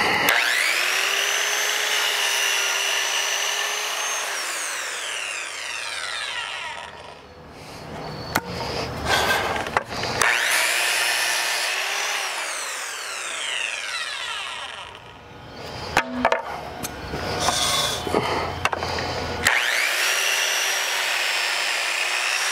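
A Ryobi ONE+ HP 18V 7-1/4 inch brushless circular saw cutting through furring strip, 2x4 and 4x4 ground-treated lumber, a loud whining motor with several rasping cuts, brief pauses and a final spin-up.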